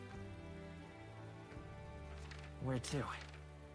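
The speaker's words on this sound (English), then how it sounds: "Ah, it's raining." Soft, steady rain falls in the video game Metaphor: ReFantazio, a faint continuous hiss running under a person's talking.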